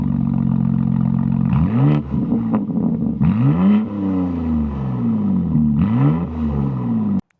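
BMW G80 M3 Competition engine with a single midpipe exhaust revving hard several times in quick bursts, each rising sharply then falling back, loud and close, with no one talking.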